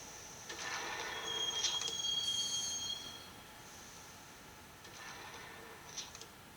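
In a video game, a train pulls into a subway station with soft rumbling and faint squealing tones and chimes, quiet and a little distant, with no speech.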